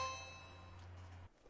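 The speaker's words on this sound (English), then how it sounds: "Hey, we don't do doorbells here." A doorbell chimes once with a bright ding that rings out and slowly fades before stopping abruptly, heard alone indoors with no talking during it.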